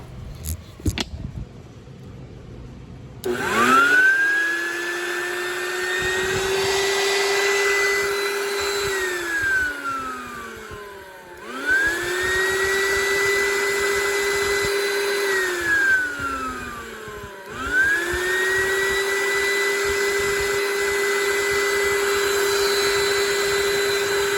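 An Oreck XL9100HG upright vacuum motor, just freed from a jam, spins up, runs with a steady whine, then winds down; this repeats three times in close, loud bursts.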